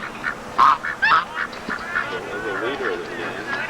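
Wild geese honking in a noisy flock, repeated nasal calls with several louder bursts near the start, mixed with people talking at a family reunion outdoors.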